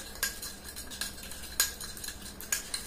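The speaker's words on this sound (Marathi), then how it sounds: "मस्त फेटून घेऊया." Utensil whisking a homemade facial cream of multani mitti and curd in a bowl, with quiet scraping and several sharp clinks against the sides at an uneven pace, close and soft, no talk.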